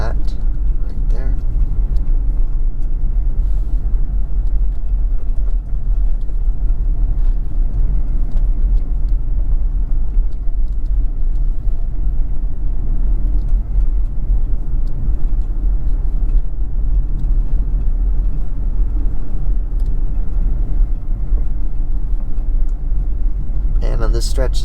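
A car fitted with a Comma 3X cruises slowly up a winding mountain road at about 20 miles per hour, a steady low engine and road rumble filling the cabin with someone talking over it.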